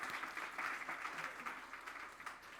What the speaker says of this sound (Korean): 박수 한번 주시겠어요?